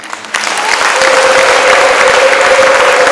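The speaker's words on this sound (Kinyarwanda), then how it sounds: "Ndagira ngo dutangire duha Imana amashyi" Applause rises quickly from near quiet into a loud, sustained roar of clapping from a church congregation at a Mass, with a faint tone humming underneath.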